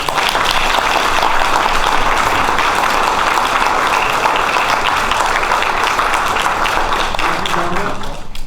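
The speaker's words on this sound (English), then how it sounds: "Ladies and gentlemen, give them this round of applause" Sustained audience applause fills a Republican primary candidates forum for Lewis County Clerk, a dense steady wash of many hands clapping at full strength that thins slightly near the end.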